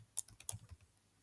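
Rapid keystrokes on a computer keyboard, a quick burst of several soft clicks close by in a quiet setting.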